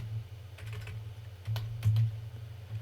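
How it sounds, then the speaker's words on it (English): Keystrokes on a computer keyboard while entering program code, a few scattered soft clicks and short bursts of typing over a low steady hum. "All we're going to do here is we're going to, again, type in user selects"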